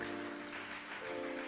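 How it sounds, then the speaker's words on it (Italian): Theatre audience at a live show in Rome clapping, a faint, continuous spread of applause with a low tonal hum beneath it. "Carmine, un applauso a lui."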